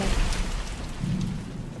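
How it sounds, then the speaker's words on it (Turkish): Steady rain falling in The Mortuary Assistant horror video game, a continuous broadband hiss with a low rumble underneath, fairly loud and close, with no voices over it. "ben yağmuru çok seviyorum. İçimi rahatlatıyor benim yağmur."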